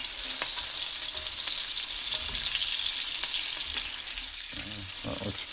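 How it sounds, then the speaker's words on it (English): Steady sizzling of onions frying in a pan, a constant hiss with a few soft clinks of stirring near the end. "So going back to the onions, make sure they're frying up nicely here."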